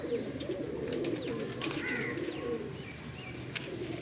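Pigeons coo softly and continuously at close range, low rolling calls layered over each other with faint chirps in the background.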